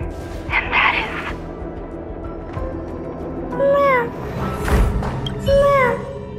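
A cat in the video game Honkai Star Rail meows several times, three clear rising-falling calls set against soft game ambience and background music.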